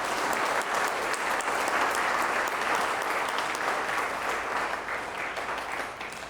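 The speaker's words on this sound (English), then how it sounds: "let's give a final round of applause for your 3 candidates" Sustained applause from an audience for three mayoral candidates at a St. Stephen candidates event, steady and fairly loud throughout, tapering slightly toward the end.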